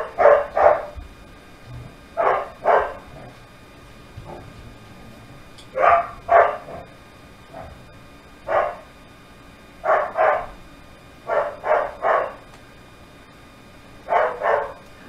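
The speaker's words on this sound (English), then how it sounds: "This dog's been barking like that since 6 a.m." A dog barks in the next room, loud and repeated, in short bursts of one to three barks with brief pauses between, coming through in clusters for the whole stretch with no talking.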